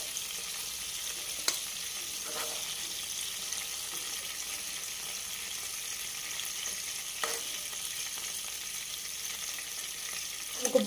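Prawns for a Kerala-style prawn roast fry in hot oil in a pan, giving a steady, close crackling sizzle with a few sharp clicks and scrapes, and no talking.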